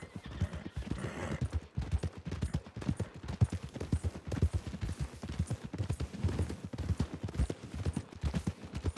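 Rhythmic hoofbeats clip-clop steadily throughout, a horse walking at an even pace in the video game Red Dead Redemption 2, fairly close and moderately quiet.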